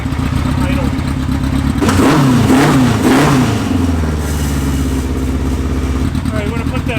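A drift car powered by a streetbike engine revs after carburetor tuning, its high-pitched motorcycle-like engine climbing through a couple of quick revs before settling back to a steady, loud, buzzy idle.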